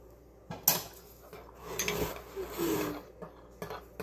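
Jamaican black castor oil is scraped out of its nearly empty container, with a run of close scraping, rubbing and clinking strokes and a few sharper knocks of utensil against the container.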